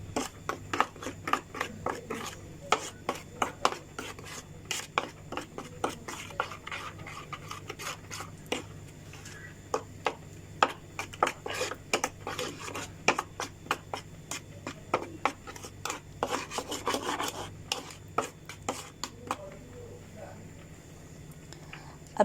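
Chicken being mixed by hand with peri peri sauce in a bowl, producing rapid irregular wet squelches and slaps that continue steadily, close up and fairly soft.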